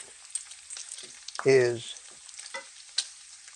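Scrambled eggs fry in a pan, likely a non-stick one, as part of a one-pan breakfast. A steady soft sizzle runs throughout with light stirring clicks, and a short squeaky tone rises mid-way.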